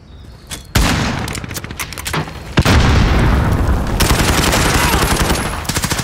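Bison submachine gun fire in a Call of Duty search and destroy match, a sudden loud boom followed by dense rapid automatic bursts and heavy impacts, close and sustained, with faint voices underneath.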